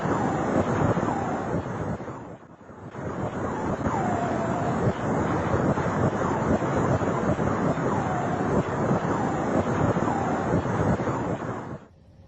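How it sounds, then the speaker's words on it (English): X-ray data from the black hole GRS 1915+105, rendered as sound, gives a dense, continuous roar like wind and crashing surf with faint whistling tones. It dips briefly near the start, then runs steady until it cuts off. "That's the sound of a black hole."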